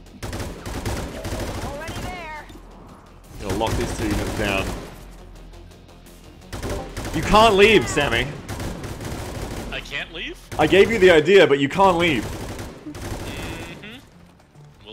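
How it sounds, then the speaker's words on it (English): Bursts of automatic gunfire from the video game XCOM 2 come in several loud clusters separated by pauses, with people talking over and between the shots. "You can hear the gunfire in the background as they just walk away from it!"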